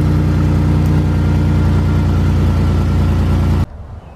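A Ford F-150 engine runs after an exhaust leak repair at the EGR pipe and manifold, a steady, close, low hum with a constant tone at even loudness that cuts off abruptly near the end.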